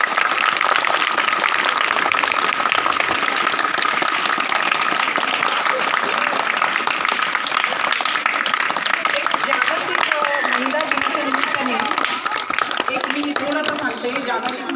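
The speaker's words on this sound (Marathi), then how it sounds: "तुमचे शिक्षक यांच्यासाठी खूप टाळ्या वाजवायच्या आभाराच्या" Students clapping for their teachers and a Rotary club group at a school event, a dense, loud applause that holds for most of the stretch and eases slightly at the end, with voices mixed in underneath.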